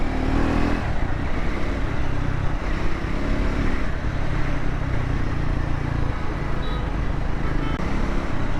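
A Triumph Scrambler 400 X motorcycle engine runs steadily and loud throughout, with a broad, dense road-and-engine roar picking up as it accelerates; no voices are heard.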